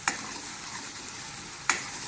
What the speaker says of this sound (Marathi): असे अंड्यांना फ्राय करते मी मस्त